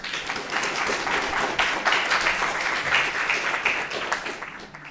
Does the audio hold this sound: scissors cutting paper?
no